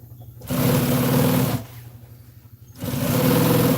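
A sewing machine with a big needle stitches fleece in two bursts of rapid rhythmic stitching, whirring and clattering loudly, with a brief quieter pause between them.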